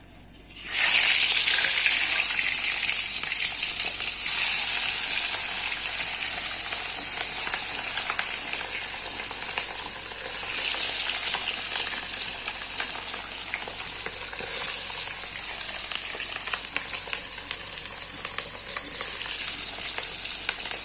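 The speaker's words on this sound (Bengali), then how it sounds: "চলো এখন মাছটা ভাজবো।" Katla fish rubbed with salt, turmeric and oil hits hot oil in a pan, bursting into a loud, continuous sizzle that holds steady with occasional crackles and stirring noises.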